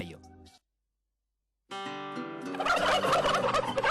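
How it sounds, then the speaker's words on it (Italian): Turkeys gobbling on a farm in Polesine, Veneto: a short burst of calls, a pause of silence, then a louder, denser chorus of gobbling from several birds close by. "con i tacchini che ci fanno sempre compagnia"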